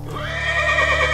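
A horse whinnies loudly and up close, one long, rising and then wavering neigh that fills the whole moment with no voices over it.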